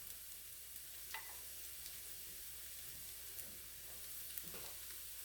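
Onions fry quietly in a pan with a faint, steady sizzle, a few soft utensil scrapes and taps breaking through now and then; no one talks.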